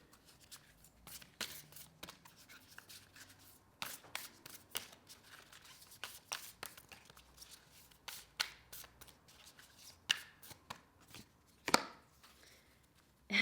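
Tarot cards being shuffled by hand in repeated quick riffles and flicks, close and fairly quiet, with a brief louder burst near the end and no talking.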